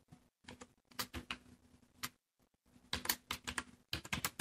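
A table caption is typed on a computer keyboard, with close, crisp key clicks arriving in quick bursts separated by brief pauses. No voice is heard over them.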